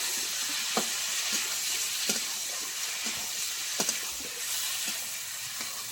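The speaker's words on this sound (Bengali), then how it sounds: "এবার আমি দিয়ে দেবো ফুলকপি, আলু একসঙ্গে দিয়ে মশলার সঙ্গে একটু নেড়ে চেড়ে নেবো 2 মিনিট মতো।" Cauliflower and potatoes stir-fried with spices in oil give a continuous close sizzle, punctuated by occasional soft scrapes and taps of a spatula stirring the pan, with no speech.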